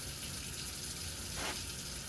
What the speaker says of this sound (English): you want to turn off each water faucet handle